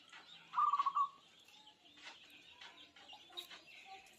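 A zebra dove (perkutut) coos from up on a house roof: one short phrase of rhythmic, pulsed coos, moderately distant, set against quiet outdoor background.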